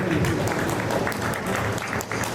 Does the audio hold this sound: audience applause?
yes